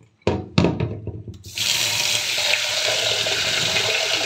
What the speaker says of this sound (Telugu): ఒక గ్లాసు రైస్ తీసుకొని ఇలా నీళ్ళతో కడిగేసేసి